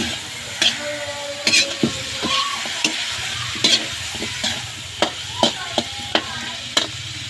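A spatula scrapes and clacks against the pan again and again in an uneven rhythm as grilled pork and banana blossom are stirred over a low frying sizzle.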